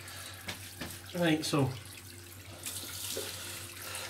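Tap water running into a bathroom sink while preparing for a wet shave with a safety razor, a steady soft splash under a man's brief, quiet speech.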